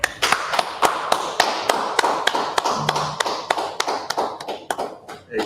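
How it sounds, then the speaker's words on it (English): Rhythmic hand clapping in a steady beat, sharp separate claps repeating roughly three times a second, fairly close and loud, with a brief low murmur midway and the pattern loosening toward the end. "All right, clap it up."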